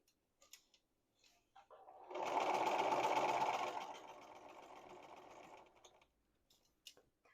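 A home sewing machine stitches a seam down the middle of a small dress for a porch goose: a close, steady whirring run of about four seconds with a few clicks before and after.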